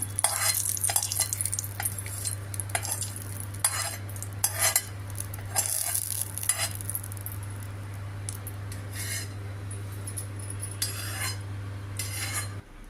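A spoon scrapes and clinks against a pan in short bursts, stirring fried cumin tempering into raw tomato chutney, over a steady low hum; no one speaks.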